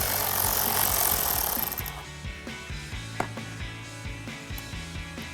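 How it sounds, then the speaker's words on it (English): A 12mm socket on a ratchet loosens the battery terminal nut in a 2022-2024 Toyota Tundra: steady clicking ticks close by, following a brief burst of rougher mechanical noise. "And then we're gonna take a 12mm socket and loosen up this nut."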